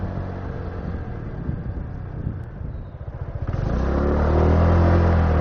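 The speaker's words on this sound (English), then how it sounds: "finish the corner tight and accelerate away" A scooter leaning through a slow-speed curve, its engine puttering steadily before rising into a louder, smoother drone as it accelerates away, heard close against faint wind.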